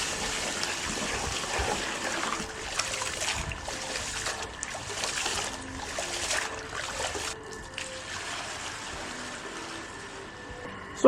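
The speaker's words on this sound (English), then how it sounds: "I want to be washing our rice." Water sloshing and trickling while rice is washed in a big pot for a large batch of Nigerian party jollof rice, with continuous splashing and pouring at close range.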